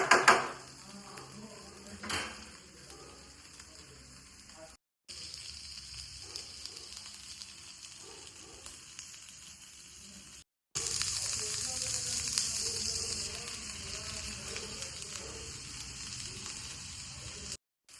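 Chicken curry with coriander powder cooks in a pan, giving a steady, faint sizzle that runs throughout, with brief breaks and a slightly louder stretch toward the end.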